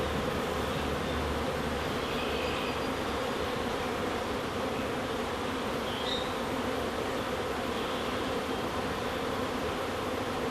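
Continuous, steady buzzing of many bees around a wild hive in a tree outdoors, a dense hum with occasional individual bees passing closer.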